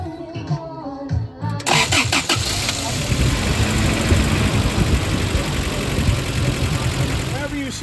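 A 1991 Toyota 4x4 pickup engine cranks briefly, catches, and settles into a loud rough idle that runs steadily up close, with a voice speaking just before the start.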